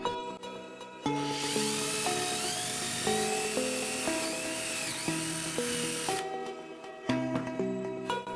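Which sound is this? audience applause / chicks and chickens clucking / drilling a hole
drilling a hole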